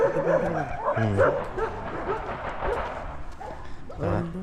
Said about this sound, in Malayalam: കുറേ പട്ടികളുണ്ട്.